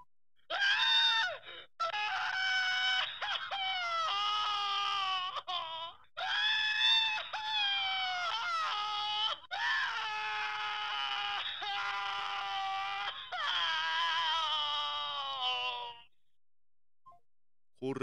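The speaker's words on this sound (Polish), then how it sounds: "To nie były zwykły numer telefonu, tylko krzyki." Screaming voices played down a phone line from an unusual telephone number, loud, strained and continuous, in long wailing bursts with brief breaks, before stopping abruptly near the end.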